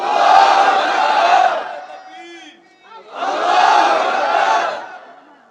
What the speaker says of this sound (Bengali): নারায়ে তাকবীরের উত্তরটা যেরকম হয়েছে